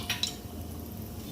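Whole spices being stirred in ghee in a cooking pot: a couple of quick metallic clinks of a spoon against the pan near the start, then a soft, low simmering hiss.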